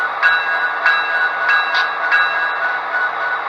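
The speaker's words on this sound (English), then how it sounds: "now you can hear the locomotive with the prime mover running, and we'll go with the E-bell" A model Athearn Genesis SD70ACe locomotive's E-bell rings in steady, evenly spaced strokes over a constant prime mover hum, bright and close.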